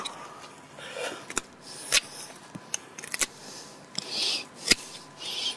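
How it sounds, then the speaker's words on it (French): Pruning shears snipping the stems of a climbing rose, a series of sharp, crisp clicks spaced irregularly, close and fairly loud over quiet background rustle. "Donc mon sécateur est à la fois puissant et précis."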